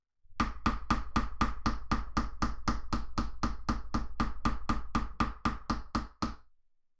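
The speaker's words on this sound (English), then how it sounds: "So a little hammer time." A hammer strikes a hard surface about twenty times in a steady, even rhythm, each blow sharp and close, before the pounding stops and a short ring fades away.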